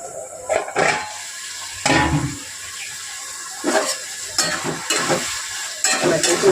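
Potatoes and drumsticks simmering in a covered pan, a soft bubbling background broken by several louder stirring and scraping bursts at irregular intervals, with no speech.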